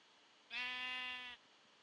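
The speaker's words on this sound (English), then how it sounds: "obviously I found the home of sheep." Sheep bleating in the video game Minecraft: a single clear, tonal bleat lasting under a second, loud and close, with quiet around it.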